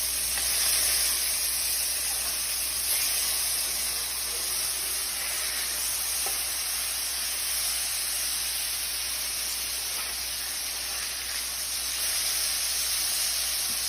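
Burger patties searing in a hot pan give a steady, even sizzle and hiss throughout, moderately loud with no talking.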